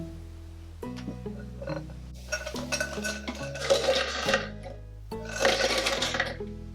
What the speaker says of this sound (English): we will place 20 Oreo cookies into a food processor